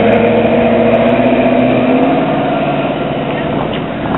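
A loud vehicle engine with mufflers roars close by on a Daytona Beach street, rumbling steadily with rising revs, and a voice can be heard under the noise.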